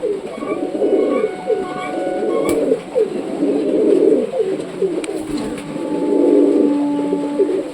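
A Madras pigeon coos loudly and close by in a continuous run of rolling, throaty calls. Other pigeons add overlapping coos, with a few faint clicks in the background.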